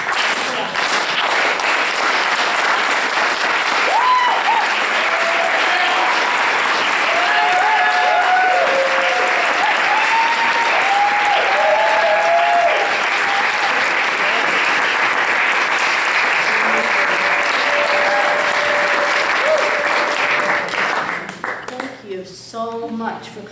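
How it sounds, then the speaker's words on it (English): A theater audience applauds after a performance, dense sustained clapping for about twenty seconds, with scattered whoops and cheers over it, before the applause thins out at the end. "Clapping."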